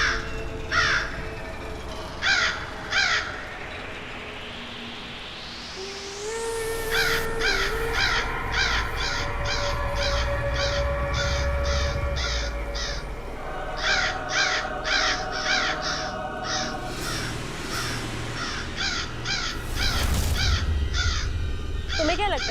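Black crow cawing in repeated harsh bursts, loud and close, with music and speech-like sounds running beneath in an animated cartoon scene.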